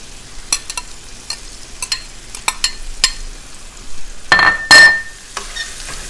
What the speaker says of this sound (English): I'm now adding my chopped shrimp.